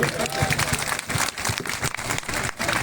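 Crowd clapping at an outdoor political rally in Jharkhand, dense and uneven rattling applause from many hands, fairly loud and continuing the whole time with murmuring voices mixed in.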